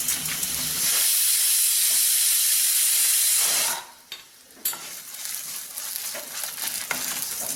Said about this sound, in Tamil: இதை நல்லா ரோஸ்ட் பண்ணிக்குவோம்